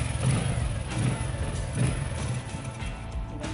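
A Boxer CT 100 motorcycle engine runs at idle nearby, giving a low, throbbing putter with regular pulses under a steady mechanical hum.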